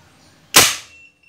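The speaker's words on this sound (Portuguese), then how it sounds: "Primeiro disparo com ela regulada e com supressor" A single sharp shot from a suppressed PCP Urko III air rifle, regulated, fired close by, with a crisp crack and a short fading tail over faint background noise.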